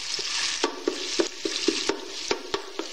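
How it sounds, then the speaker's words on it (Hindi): Ginger garlic paste, about a tablespoon, lightly frying in a pan for tomato gravy, with a steady close sizzle and a series of sharp scraping stirs at a quick irregular rhythm, no voices. "ये देखिए मैंने इसमें अदरक लहसुन का पेस्ट शामिल किया है 1 टेबल स्पून। इसको मैं हल्का सा फ्राई करूंगी।"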